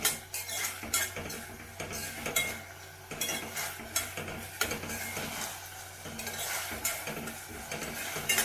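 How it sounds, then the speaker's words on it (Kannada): A utensil scrapes and clinks in quick, repeated strokes against a frying pan, stirring garlic paste for dal fry, with a soft sizzle running beneath the close metallic taps. "ಈ ಥರ ಸ್ವಲ್ಪ ಹಸಿ ವಾಸನೆ ಹೋಗೋವರೆಗೂ ಸ್ವಲ್ಪ ಹಿಂಗೆ ಕೈ ಆಡಿಸಿ ಚೆನ್ನಾಗಿ"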